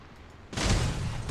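Heavy cannon and gunfire in the vehicle combat game Crossout, a loud burst of booming shots starting abruptly and rumbling on as sustained fire close by.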